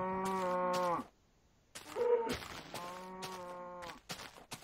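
Cattle mooing in the Minecraft IndustrialCraft game, two long drawn-out moos separated by a short gap with a clicky game noise, then a third loud moo trailing into faint game sounds.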